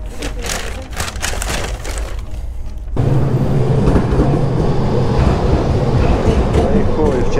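A tram rolls past on a city street, a loud rumbling rattle of wheels on rails that swells abruptly partway through and keeps grinding steadily close by, with traffic noise before it.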